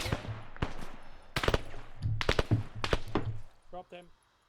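Gunfire in the ArmA military video game: several sharp bursts of shots, some close and some more distant, scattered through the clip and mixed with speech and radio-style chatter.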